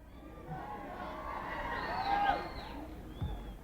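A large outdoor crowd at a Fourth of July event gives a diffuse murmur with scattered cheers and shouts, moderately distant and rising slightly midway.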